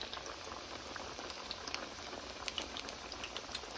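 Vegetarian crab cakes cook in a pan, giving a steady sizzling, bubbling hiss with small scattered pops. It is continuous, fairly faint and close by, and no one speaks.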